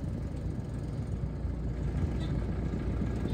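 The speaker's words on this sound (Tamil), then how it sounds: "இப்போ அதான் டிரைவர் டெஸ்ட் ட்ரைவ் பண்ண போகிறேன்." A used Maruti Ritz hatchback engine running during a test drive at a dealer, a continuous low rumble and road hum heard from inside the cabin, steady and moderate.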